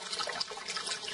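Water pours steadily into an emergency water distiller to top off the system, a continuous close splashing rush with no speech.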